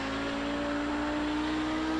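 An Audi 90 GTO race car engine pulls hard on throttle at Donington Park, a steady high-pitched drone of engine tone holding loud and constant from onboard.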